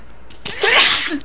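A loud, close sneeze erupts in one sharp burst, preceded by a faint intake and followed by a brief fading tail.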